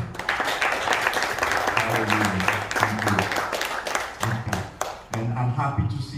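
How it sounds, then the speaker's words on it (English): A church congregation claps and applauds steadily for several seconds during a worship service, the clapping dense and continuous with voices mixed in. "Can you give him a mighty clap?"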